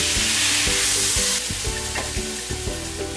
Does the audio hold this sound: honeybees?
no